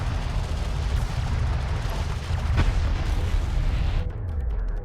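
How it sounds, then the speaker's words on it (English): A destroyed enemy turret explodes in the desert real-time strategy game Homeworld: Deserts of Kharak, a heavy, sustained rumbling boom lasting several seconds that fades slightly near the end. "A hostile turret has been destroyed."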